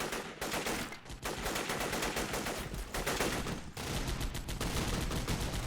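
Machine gun fire from Men of War: Assault Squad 2 in a Kosovo War battle between KLA and Serbian troops, loud sustained bursts of rapid shots with brief pauses between strings.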